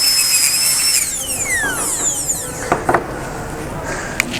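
A high-pitched dental burr whines as it cuts a ceramic crown preparation, its pitch sliding downward as the tool slows and bites, followed by a few short clicks and taps, close and fairly loud.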